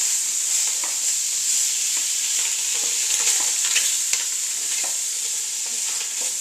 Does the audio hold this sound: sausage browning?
yes